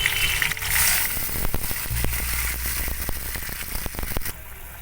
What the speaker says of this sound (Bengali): এতে আমি ফুটন্ত জল দিয়ে দিলাম